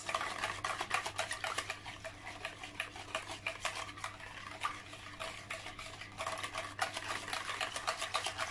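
A spoon works through a milk tart base in a bowl with a quick, steady run of light scraping and clinking strokes, soft and close with no talking.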